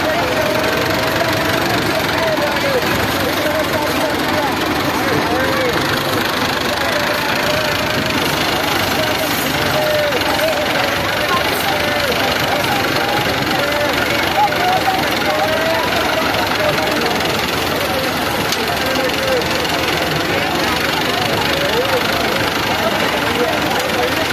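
A 640 tractor engine runs steadily throughout at a tractor tournament, a rough knocking drone with constant background noise and voices mixed in.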